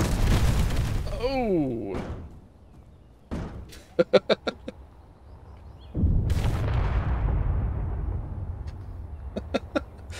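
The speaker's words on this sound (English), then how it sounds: "And now that turret's going to come around and destroy it" Turret cannon fire and explosions in the building game Warfare 2 Broadside: a deep boom, a rapid cluster of sharp shots, then another heavy blast and a few more cracks, with a brief voiced exclamation.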